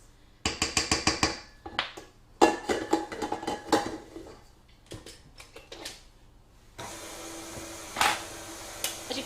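A utensil chops icing sugar into a mixture in a bowl in a home kitchen, giving a run of close, sharp clinks and taps against the bowl in uneven bursts, with a brief pause partway through.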